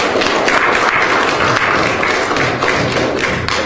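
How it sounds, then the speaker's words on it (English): Town hall audience breaks into loud, continuous clapping, a thick patter of hand claps and thumps that holds steady from start to finish. "Give Brother Knowledge a round of applause."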